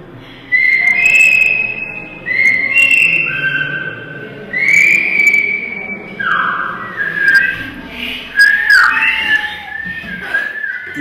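Silbo Gomero, the whistled language of La Gomera, rings out in loud, clear whistles. The pitch glides up and down in phrase-like bursts separated by short pauses, with no speech.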